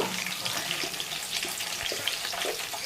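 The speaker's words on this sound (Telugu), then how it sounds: "కొంచెం పోపు వేగే వరకు కలపాలి" Crushed garlic frying in hot oil for a spice tempering sends out a steady, dense sizzle that fills the whole clip at moderate loudness, with a few faint soft knocks underneath and no talking.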